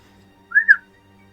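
A person whistles a short two-part trill imitating an imaginary bird call, a shimmering fantasy nightingale, rising and dipping once in a quick, clear phrase over a quiet indoor background.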